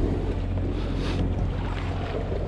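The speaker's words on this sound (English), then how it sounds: "Wind's mellowing." Steady wind blows across the open sea during a tuna fishing trip aboard a boat, a constant broadband rush with buffeting on the microphone and faint water movement, no talking.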